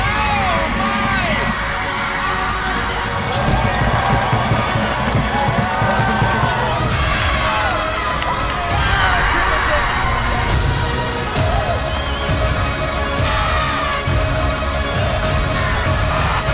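Illini soccer crowd cheering and roaring loudly and continuously, with whoops and yells rising and falling throughout and voices mixed in the din.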